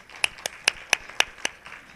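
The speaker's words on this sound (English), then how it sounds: "Give a round of clap, yes." A few people clap briefly at a community commissioner district meeting: about seven distinct, fairly crisp hand claps in an uneven rhythm, thin and sparse rather than a full crowd ovation.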